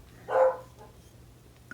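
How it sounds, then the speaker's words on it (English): A dog gives a single short, sharp bark up close, then brief quiet before the start of another bark at the very end. "I'm sorry about the dogs, constant barking"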